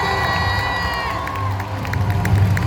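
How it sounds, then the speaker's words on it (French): A large crowd at the GP Explorer race event cheers and shouts for the mechanics, loud sustained roaring with high voices and whoops, building toward the end. "je veux un tonnerre d'applaudissements, un maximum de bruit pour les mécaniciens"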